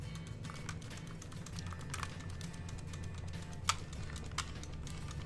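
Light, irregular plastic clicking of an Xbox One Elite Controller paddle, close and quiet, over a low steady hum, with a couple of slightly sharper clicks near the end.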